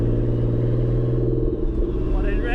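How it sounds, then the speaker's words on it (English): A Nissan 300ZX Z32 twin-turbo runs on the road with a loud, low engine rumble and a steady drone from inside the car, holding even throughout with a faint rising whistle toward the end; someone talks over it. "Turbo sounds good. Or the turbos, I should say. It is very loud."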